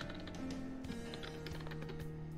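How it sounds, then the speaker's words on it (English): Soft, quick clicks of typing on a computer keyboard run steadily and quietly beneath a constant electrical hum. "At least my typing so far is doing fine."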